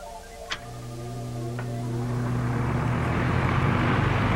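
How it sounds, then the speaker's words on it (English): An electric fan blowing air over a model wing clicks on, then its whooshing airflow swells gradually into a steady, broad rushing noise, with a faint hum and a tick or two early on. "The wind from the fan is racing over the top faster than it's passing under the bottom."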